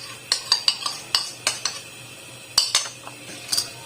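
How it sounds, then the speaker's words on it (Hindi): A spoon stirs custard milk in a cooking pan in quick, irregular clinks and scrapes against the metal, close and moderately loud over a faint background hum, with no voices. "आपने स्पून को साथ साथ चलाते जाना है"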